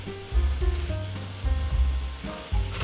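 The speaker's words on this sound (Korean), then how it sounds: "김치가 충분히 익으면 고춧가루, 알룰로스 분말, 참치액, 알룰로스 액체 넣고 볶아줍니다." Kimchi stir-fries with chili powder, allulose and tuna sauce, a close crackling sizzle broken by three or four bursts of spatula scraping and tossing, with no voice present.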